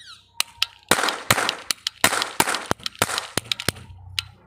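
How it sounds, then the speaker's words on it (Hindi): A chitput toy ring cap gun fires Diwali caps in a rapid, irregular string of sharp, loud snaps and pops, each with a crackling burst, close up. "चलिए इसके अंदर चिटपुट को लोड करते हैं और फिर फायर करते हैं कि आखिर इसका साउंड कैसा आता है।"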